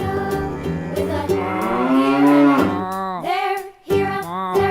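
A cow mooing within a children's farm song, a loud drawn-out bovine moo that slides in pitch, followed by shorter moos with brief gaps, close and clear with no talk over it.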